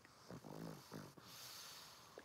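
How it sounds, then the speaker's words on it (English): A small dog snoring softly close by, with a few rough, snorting breaths at an uneven rhythm and a faint hiss between them. "It's my little doggy snoring."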